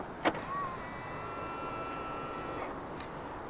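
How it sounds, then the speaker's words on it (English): A 2019 Ford Kuga 1.5 EcoBoost locks through a touch on its keyless front door handle, giving one short, quiet click, then a faint low hum and another soft tick. "To lock the car, press the indentation on any of the front door handles."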